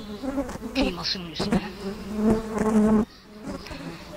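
Flies, black house flies and small dust flies, buzzing close by in a steady droning hum with shifting pitch, under a brief spoken phrase.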